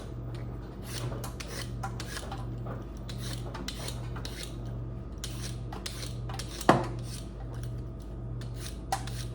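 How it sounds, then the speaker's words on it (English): Repeated rasping scrapes of a peeler stroking down a carrot come in quick, regular bursts, with one sharp knock midway, close and fairly quiet. "let's peel a carrot or two"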